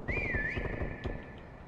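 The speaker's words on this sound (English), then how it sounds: "Whistle." In a video game, a sustained rising and wavering whistle tone plays clearly over a steady background rumble and rhythmic low thumps, lasting about a second before trailing off.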